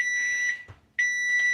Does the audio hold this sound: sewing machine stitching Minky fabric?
no